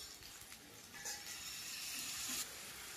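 Vegetables (sweet potato, pointed gourd and carrot with turmeric and salt) sizzle steadily in a pan after a little water goes in, a soft close hiss that swells briefly to a louder spurt, with no talking.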